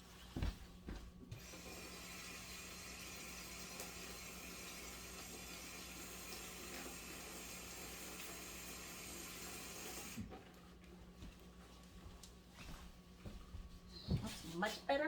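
Tap water runs steadily into a kitchen sink while jalapeno peppers are rinsed, a continuous hiss lasting about ten seconds before it stops and light handling noises follow.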